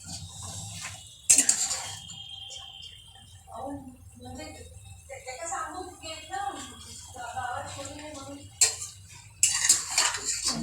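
Mutton with onions is stirred in a metal cooking pot, with scraping and clanking of a spoon against the pot in bursts, close and fairly loud, as a person talks between strokes.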